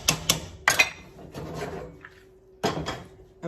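Utensils knock and scrape against a pan while black soybean spaghetti with spring vegetables is tossed, a few sharp clacks in short clusters separated by quieter shuffling, close and without speech.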